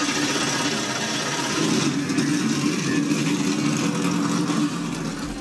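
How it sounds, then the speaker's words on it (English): Stock car race engines at a Charlotte Roval playoff event rumble loud and steady together, a sustained low growl with a brief rise in revving near the end. "the engines have been fired up here"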